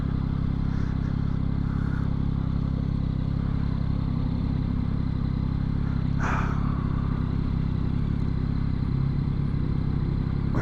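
A 2022 Yamaha XSR900 motorcycle rolls along on a ride with a steady low engine rumble buried in heavy wind noise, plus one brief clatter midway, no voices.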